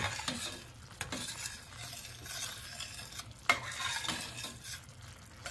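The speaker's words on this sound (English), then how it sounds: "gonna stir it up" Creamy garlic sauce for cheesy chicken parmesan is stirred in a pan, with soft, quiet scraping and light clinks of a spoon over a gentle simmer.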